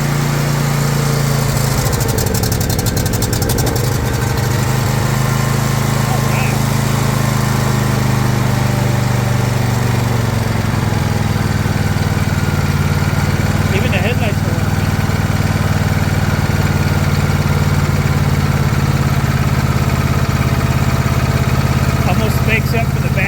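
An abandoned lawn tractor engine with 513 hours on the meter runs steadily and loudly at idle, a constant close mechanical drone throughout, with occasional faint voices underneath.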